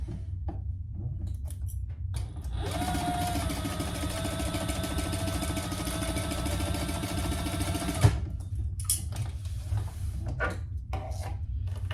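A sewing machine runs a steady, continuous whirring seam on a mini traveler sling pouch for about five seconds, close and fairly quiet, with brief fabric handling and clicks before and after.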